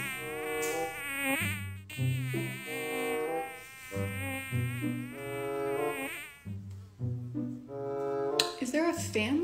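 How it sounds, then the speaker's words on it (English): A giant housefly buzzes loudly around a room, its whining drone rising and falling as it circles near the microphone, with brief pauses, alone without talk. "There's also a giant fly in my room buzzing around"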